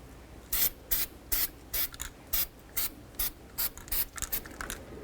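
Aerosol can of copper anti-seize sprayed onto a wheel hub during a rear wheel bearing and hub job on a 2000-2005 Buick LeSabre, heard as about a dozen short, sharp hissing bursts in a steady rhythm, fairly close and with no talking.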